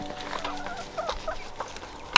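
A few chickens cluck softly nearby in short, scattered calls, ending with a sharp clatter.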